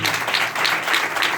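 A church congregation claps together in a steady, rhythmic beat, with strong regular pulses at a moderate distance and no talk over it.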